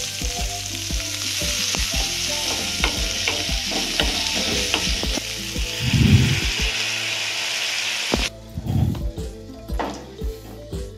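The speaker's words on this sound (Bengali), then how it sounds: "এরপর আমরা ইউজ করছি পেঁয়াজ, এটাকেও আমরা ভালো করে সস দিয়ে ফ্রাই করে নেব" Onions stir-fry with sauce for Korean japchae, sizzling loudly in the pan as a spatula clatters and scrapes in quick repeated strokes, close up, with a brief hiss burst partway through.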